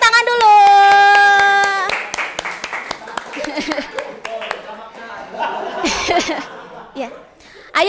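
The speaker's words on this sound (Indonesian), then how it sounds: "Tepuk tangan dulu." A housekeeping class claps together after a tonal sound, a run of sharp, close hand claps followed by scattered laughter and chatter among the students.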